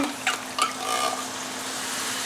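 Water from a can is poured into a pan of beef stroganoff, a short splash and gurgle followed by a softer sustained trickle and hiss close by, with no talk.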